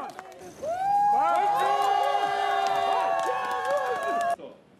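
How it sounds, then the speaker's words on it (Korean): A crowd outside a military court cheers and shouts loudly as Marine Colonel Park Jeong-hun walks out, sustained voices swelling together for several seconds, with no separate talking. "무죄를 선고받은 박정훈 해병대 대령이 군사법원을 걸어 나오자 환호성이 터져나옵니다"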